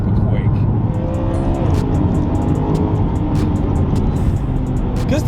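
A BMW E92 M3 with its V8 engine revving hard on a race track, loud and close, rising and falling through quick gear changes with a harsh continuous roar.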